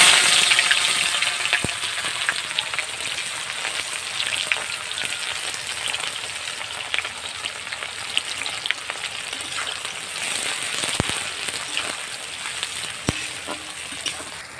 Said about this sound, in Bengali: পেঁয়াজটা লাল করে ভাজতে হবে।